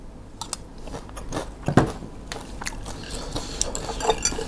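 Close eating of rice with a fried egg and crispy pork-crackling chili paste, with soft chewing, crunching bites and light clinks of cutlery on a dish, plus one louder crunch near the middle.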